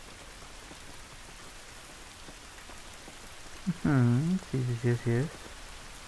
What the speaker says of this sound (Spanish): Esta lluvia no nos ayudará.